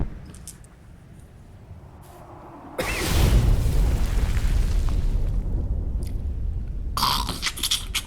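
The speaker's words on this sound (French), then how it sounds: "On enchaîne avec le lance-missile qui tire à 4." A missile launcher fires in a Warhammer 40k Death Guard game, a sudden heavy blast after quiet ambience that rolls into a sustained roaring rumble, with another burst of noise near the end.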